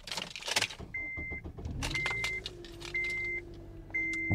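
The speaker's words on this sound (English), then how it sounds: "Now let's turn on the car." A car engine cranks and catches, then settles into a steady idle while short electronic chimes repeat every second or so, close and clear with no talking.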